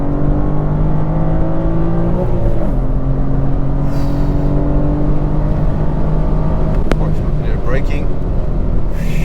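A 2021 BMW M4 in track mode pulls hard from inside the cabin, a loud continuous engine drone whose pitch climbs with a brief shift-like dip partway through.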